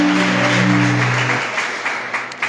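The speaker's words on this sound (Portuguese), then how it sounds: "uma salva de palmas para Jesus" Church congregation applauding for a youth preacher's gospel sermon, a dense wash of clapping at first over a sustained held tone that cuts off, then thinning to scattered claps near the end.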